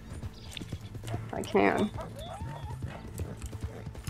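In a video game, a horse's hooves clip-clop steadily with a brief neigh partway through, close by and mixed under someone talking.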